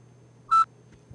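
A single short electronic beep from a barcode scanner reading a PSP UMD game case sounds once, clear and close, amid an otherwise quiet room hum.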